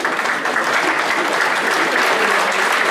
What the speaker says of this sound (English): Applause for him, please.